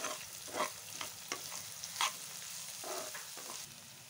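Garlic paste fries in oil in a pan for a spicy garlic powder, with a steady low sizzle and several scraping strokes of a stirring spoon at irregular intervals; fairly quiet, with no talking.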